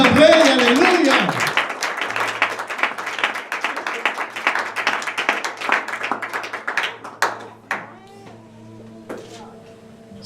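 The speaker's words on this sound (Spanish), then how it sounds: "Dale palmas entonces al Rey, aleluya." Church congregation clapping in a dense, rhythmic burst that starts under a speaking voice and loud singing or shouting, then thins to scattered claps over a low hum toward the end.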